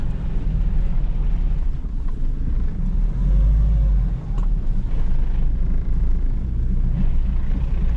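Suzuki Vitara 1.9 diesel 4x4 climbing off-road, its engine giving a loud, steady low rumble with deep bass swells and no talking throughout.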